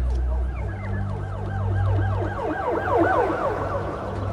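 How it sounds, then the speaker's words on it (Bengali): A wailing police siren rises and falls rapidly and repeatedly, loud and close, over a low engine rumble. "সাইরেন বাজিয়ে একটা পুলিশের গাড়ি ঢোকে।"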